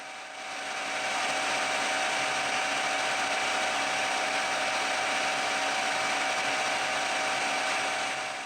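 Metal lathe turning a small flange for a 122 GHz mmWave radar rotary coupler, a steady mechanical hum with a faint cutting hiss that rises in the first second and holds evenly, no speech.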